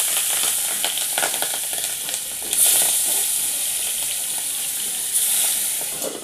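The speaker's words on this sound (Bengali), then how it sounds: "তেলটা আমার গরম হয়ে গেছে। এবার আমি মাছটা দিয়ে দেব।" Fish hitting hot oil in a pan gives a loud, steady sizzle with bright hissing throughout, swelling in two sharp spurts, no voices.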